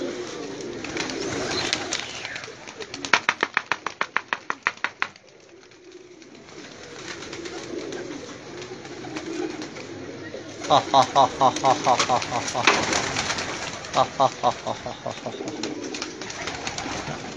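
Many pigeons coo in a low continuous murmur while someone talks over it in bursts, with a short quieter gap midway.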